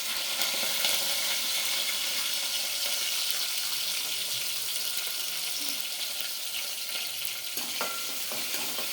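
Green chilies fry in hot oil with garlic paste, giving a steady, loud, close sizzle that crackles evenly throughout with no voices.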